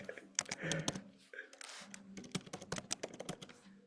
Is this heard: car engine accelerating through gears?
no